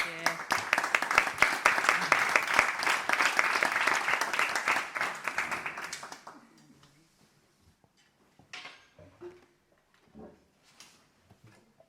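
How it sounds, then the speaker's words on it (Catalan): Audience applause at a presentation of rural women artists, a dense burst of clapping lasting about six seconds before fading into scattered claps and quiet room noise. "Un aplaudiment."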